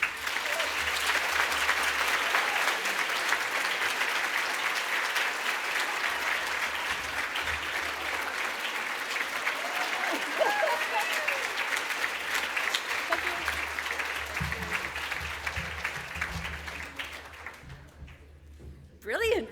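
Audience applauding at a women-in-conservation celebration event, sustained dense clapping from a large crowd that holds steady for many seconds, then thins and fades before a brief final burst.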